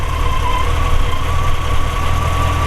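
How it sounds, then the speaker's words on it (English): A 1940 Ford Deluxe Woody Wagon V8 with a mild cam idles steadily around 600 to 700 RPM, with a deep, low rumble and a slight even lope, loud and close, with no other sounds. "Probably only idling about 600 or 700 RPMs."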